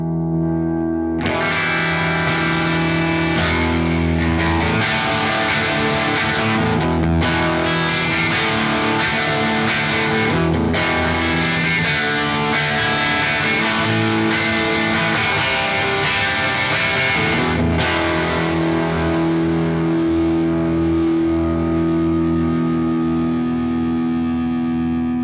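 Electric guitar played through an Echo Drive overdrive pedal, giving a thick, saturated driven tone with sustained chords and riffs, loud and continuous for the whole stretch with no talking.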